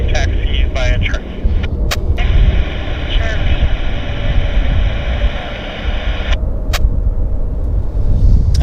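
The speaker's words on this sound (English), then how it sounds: "there is a Learjet Medevac coming out of Millionaire headed to Charlie as well" A Learjet medevac jet taxis at Vancouver airport, its engine giving a loud, steady whine and rumble that holds throughout, with a brief break in the high tone near the end.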